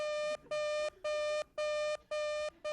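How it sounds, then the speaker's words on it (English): Metal detector beeping in a steady on-off pattern, five long electronic tones with short gaps, loud and clear with no talk. "that is the metal detector, Mrs. Smith"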